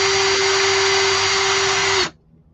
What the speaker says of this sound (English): Drill it straight.